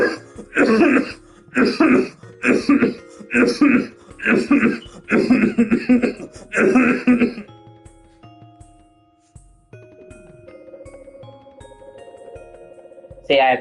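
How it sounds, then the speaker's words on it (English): A person coughs and clears their throat repeatedly, about seven loud rhythmic bursts in close succession, followed by quieter tonal electronic sounds. "And force yourself to cough,"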